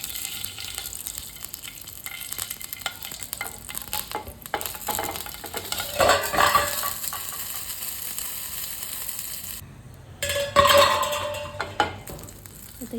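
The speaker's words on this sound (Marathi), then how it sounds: "1-2 चमचे आपल्याला ह्यामध्ये तेल टाकायचं आहे बारीक, आणि हळद आणि मोहरी, जिरं आणि मोहरी टाकायची आहे" Mustard seeds, cumin, turmeric and green chilli tempering in a small amount of hot oil, a bright continuous crackle and sizzle with popping bursts and a couple of louder flare-ups, close by, no voices.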